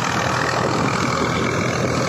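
A Swaraj 735 tractor engine, 2000 model, runs steadily with its PTO engaged, producing a dense, loud, even drone throughout.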